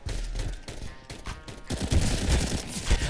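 Rapid gunfire in the first-person shooter CS:GO, a dense fusillade of shots that grows louder and heavier in the second half, without speech.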